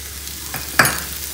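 Oil sizzles in a pan during frying, a soft steady hiss with a sharper burst of crackling partway through, close by and with no talking.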